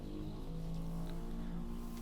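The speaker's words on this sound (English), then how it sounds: "That was a motorbike" A motorbike passes outside, its engine drone rising and falling in a steady continuous hum that fills the two seconds, heard from a moderate distance through the room.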